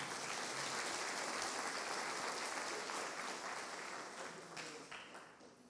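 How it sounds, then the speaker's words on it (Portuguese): A church congregation applauds in a large hall, a broad, steady roar of many hands clapping that stays full for several seconds and then slowly tapers toward the end. "Vamos aplaudir o poder de Deus?"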